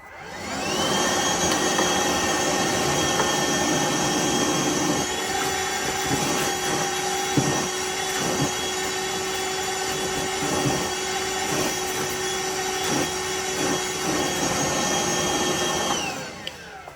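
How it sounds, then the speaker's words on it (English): A Hoover Elite Rewind vacuum cleaner whines steadily for about fifteen seconds, its tone dipping slightly as the nozzle drags across a filter with repeated soft bumps, then shuts off. "vacuum off this filter"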